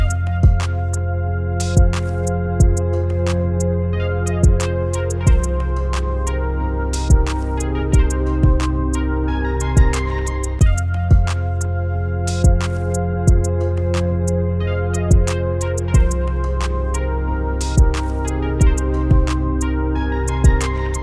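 A Porphyra wavetable synth lead from Ocean Swift plays a bright, tonal melody over steady looping drums and sustained chords, with a regular punchy kick pattern repeating throughout a short beat.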